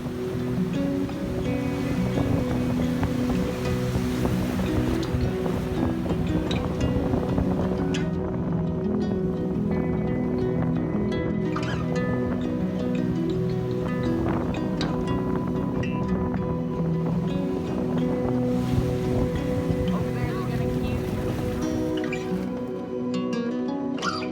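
Ocean waves and surf at Surfrider Beach roll in a continuous, loud wash with wind buffeting the microphone and no voices.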